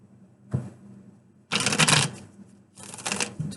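Tarot deck shuffled by hand in three bursts: a short tap, then a long dense riffle, then a softer second riffle, close and clear with no voice.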